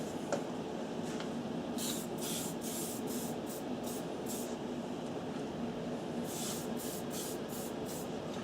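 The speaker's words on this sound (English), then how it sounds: "So I'll start off with the dirt brown, just spraying it around the base of the model here" Spray paint can misting dirt brown paint onto an MDF wargaming building model, heard as repeated short hissing bursts over steady background noise, with no talking.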